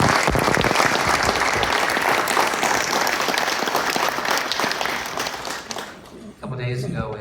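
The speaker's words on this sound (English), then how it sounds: "he deserves all the credit and all the praise and all the applause we can give him" An audience at a cancer institute donor dedication applauds Tom Hamilton with dense, sustained clapping that gradually fades, and a voice begins speaking near the end.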